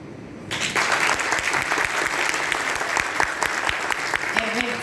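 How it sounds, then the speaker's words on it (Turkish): Audience applause after a poetry recitation at a regional poetry competition, dense crowd clapping that starts abruptly and continues steadily, loud and sustained, with a brief voice near the end. "Alkışlar Sümeyra Açın."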